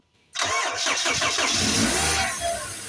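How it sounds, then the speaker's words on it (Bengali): A Toyota Hiace microbus engine cranks briefly after a short quiet lead-in, catches and settles into a steady, close, loud running sound that lasts to the end, with no voices. "আপনারা দেখতেই পারলেন যে হাফ সেলফে ইঞ্জিনটি স্টার্ট হয়ে গেল"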